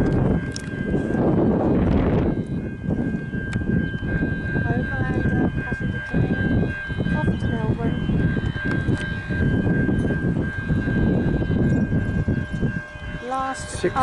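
The Overland passenger train passes with a steady, loud rumble and rattle of wheels on rails, a horn-like tone held throughout, and people talking over it.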